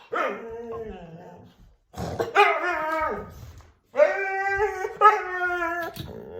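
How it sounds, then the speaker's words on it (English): A dog howls and barks up close in repeated long, wavering vocal bursts separated by short pauses, loud and alone without other sounds. "And he barks at nothing."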